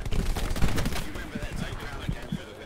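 Gunfire in a World War II game battle at Sainte-Mère-Église, with rapid crackling shots and bursts layered over continuous battlefield noise while voices talk underneath.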